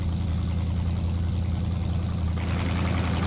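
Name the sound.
truck engine heard from onboard camera in video game Mudrunner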